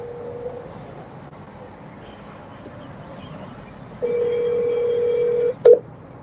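A telephone keypad emits a dial tone and DTMF beeps while a call is being placed: a faint tone at first, then a loud sustained tone and a short pair of beeps.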